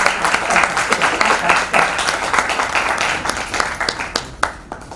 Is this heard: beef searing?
no